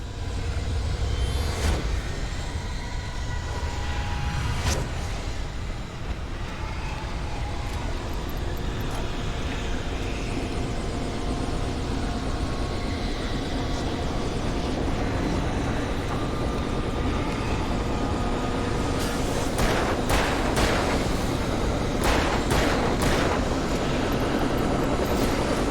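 A helicopter in the video game Alan Wake lifts off with a loud, continuous rotor and turbine roar that holds steady throughout, with sharp broadband bursts near the start and toward the end.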